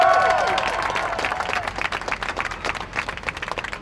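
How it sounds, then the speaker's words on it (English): Audience at an animal-rights activism talk breaking into applause, a dense burst of clapping that starts loud and gradually thins into scattered claps, with a brief cheer at the start. "Please give yourselves an applause."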